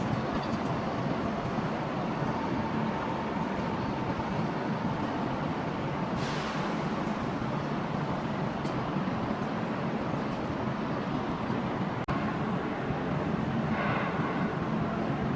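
Fully coupled CR400BFZ Fuxing high-speed train pair departing Shenzhen North Railway Station, a steady continuous rumble and rolling roar with a brief rise in hiss midway, no voices.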